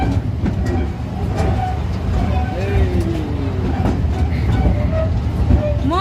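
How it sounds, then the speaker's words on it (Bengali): Continuous rumbling and rattling of a ride-on train in motion, close and loud, with faint squeals and people talking and children's voices over the steady drone. "ট্রেন চলেছে, ট্রেন চলেছে।"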